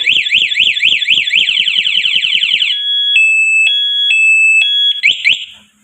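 A loud motorcycle alarm on a Rusi TC 150, triggered by movement, wails in rapid rising sweeps with rhythmic clicks, then switches to steady alternating beeping tones before cutting off.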